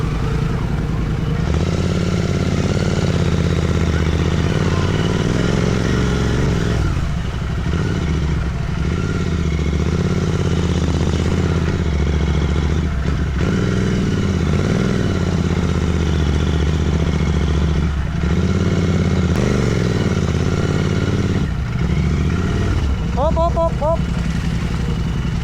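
Someone's motorcycle engine idles and runs steadily at an overnight campsite in Montalban, Rizal, just after its chain was loosened and adjusted with a wrench. A continuous rumble runs throughout under nearby voices talking.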